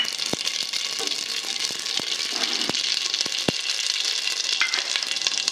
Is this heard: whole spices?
yes